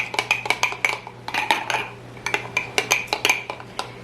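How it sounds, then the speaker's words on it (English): A utensil is stirred through sourdough starter in a glass jar, producing quick rhythmic clinks and scrapes against the glass in two bursts separated by a brief pause, close and clear with no talking. "I'm gonna stir this up."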